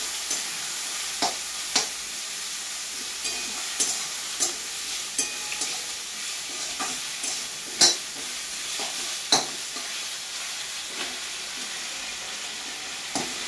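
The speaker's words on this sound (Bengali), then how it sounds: "শাকটা কিছুক্ষণ ভাজছি।" Leafy greens frying in a hot pan, a dense continuous sizzle and hiss with irregular clinks and scrapes of stirring scattered throughout, close and fairly loud.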